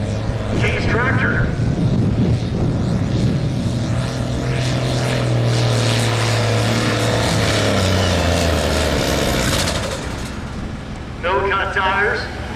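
A turbocharged Case tractor in the 3LM class, limited to 466 cubic inches on no-cut tires, roars at full power while pulling a weight sled at a tractor pull in Tulsa. The loud, sustained engine howl rises and shifts, with an announcer talking over it.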